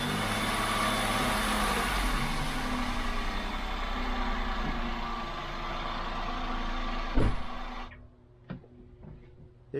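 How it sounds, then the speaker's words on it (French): A Toyota Aygo's engine idles after an oil and filter change, a steady low rumble held close for several seconds, then cut off with a clunk, leaving quiet handling knocks. "je vais mettre le moteur un petit peu en route, le laisser tourner quelques minutes"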